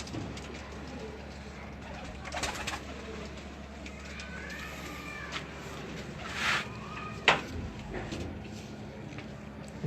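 Pigeons coo softly a few times against a steady background hum, with faint voices in the distance.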